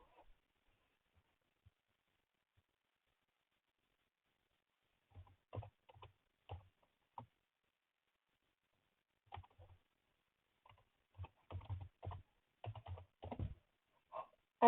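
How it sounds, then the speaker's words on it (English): Computer mouse clicks while playing the game Clangen, sparse, quiet single clicks in the first half giving way to denser irregular clusters near the end, close and dry, with no talk. "I don't know if you hear me clicking."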